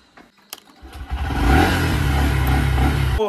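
A motorbike engine at a home fires up after a few faint clicks, then settles into a loud, steady, throaty idle close by, running on for a couple of seconds before cutting off abruptly.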